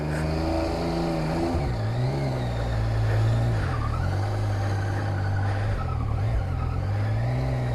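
A Yamaha FZ-09 (MT-09) 900 motorcycle accelerating in throttle mode B on a snowy road, its engine note steady and loud, pitch dipping and climbing through gear changes, with no talk.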